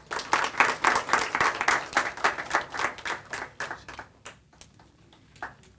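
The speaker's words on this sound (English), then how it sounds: "Let's give our students another round of applause." An audience applauding students, a burst of clapping that starts strong, then thins out and fades to a few scattered claps.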